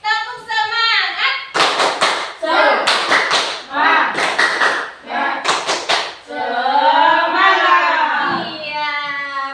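Indonesian primary schoolchildren in a classroom perform the 'tepuk semangat' clapping chant, bursts of rhythmic group claps alternating with loud young voices chanting together, close and energetic.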